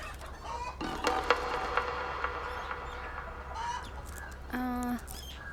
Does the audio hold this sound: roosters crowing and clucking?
yes